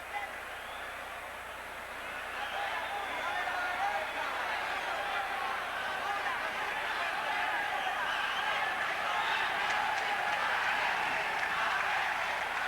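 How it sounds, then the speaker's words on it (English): A boxing arena crowd during round 7 of a 1980 bout between Alexis Arguello and Jose Luis Ramirez roars steadily, a dense, sustained roar that swells slightly after the first couple of seconds and holds loud throughout. "The crowd is roaring for Alexis Arguello to get going"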